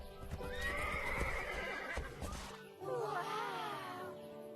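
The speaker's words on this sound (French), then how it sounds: "Ces chevaux qui vivent là en secret." Horses whinnying and neighing with hooves clip-clopping at a hidden sanctuary where a herd lives, a loud close neigh first, then a second rising whinny after a short pause.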